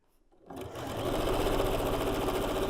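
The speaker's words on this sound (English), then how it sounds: "we're going to sew to that center seam, line the end up again" A sewing machine starts up after a brief quiet moment and runs steadily, stitching quilt fabric along a center seam with a fast, even mechanical whir close by.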